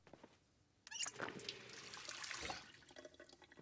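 Water runs from a tap as a character drinks in the video game Project Zomboid, a steady splashing stream starting abruptly, moderately loud, then tapering off with light trickles.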